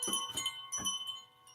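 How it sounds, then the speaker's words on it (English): Hand-played chimes from a sound-bath set ring out in two soft, shimmering strikes with long sustained tones fading between them, heard alone at low volume. "These also are considered chimes, like these."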